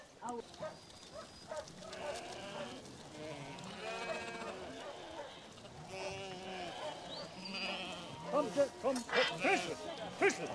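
Wild Irish hill sheep bleat repeatedly, close and distinct, with several overlapping calls growing louder toward the end, amid faint outdoor background noise.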